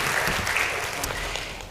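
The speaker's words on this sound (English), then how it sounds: "you can give her a round of applause" A synagogue congregation at an Erev Shabbat service applauds its volunteer of the year in a brief, continuous burst of clapping from many people, fairly loud and close.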